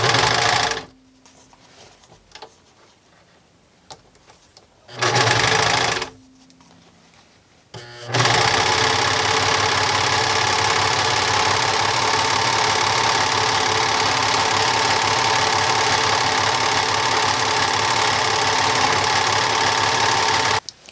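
A sewing machine stitches elastic into a fabric skirt, with two short bursts of stitching followed by a long, steady, loud mechanical whirring run.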